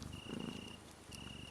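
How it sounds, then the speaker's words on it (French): A cat purrs softly and close by while falling asleep, the purr coming in two slow, rhythmic breaths of rough, rumbling vibration. "Un peu comme ce chat qui s'endort au coin du feu"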